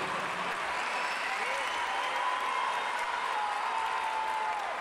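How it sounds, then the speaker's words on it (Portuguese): Crowd applause at the ENART 2014 traditional dance results ceremony, a continuous dense roar of clapping filling the room, heard under an announcer's voice that carries through it. "Vamos aplaudir Lalau Miranda."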